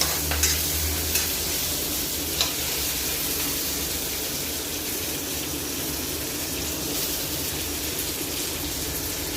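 Shrimp fry lightly in a pan with a continuous gentle sizzle, a few faint clicks and stirring knocks early on, and no one talking.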